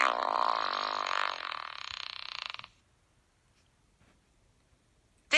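A smart speaker's assistant plays a loud, buzzy fart sound effect lasting over two seconds. It is followed by near silence and then a brief, sharp burst at the end.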